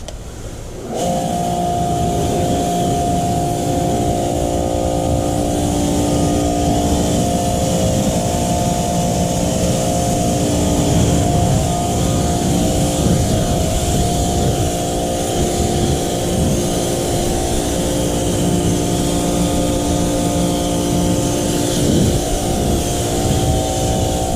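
A pressure spray gun rinses a car with a steady, loud hiss of water that starts abruptly and runs without a break, with a constant pump drone beneath it.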